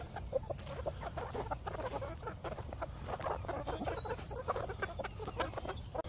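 Many chickens cluck and chatter busily close by on a farm, a continuous flock murmur with frequent short clucks overlapping.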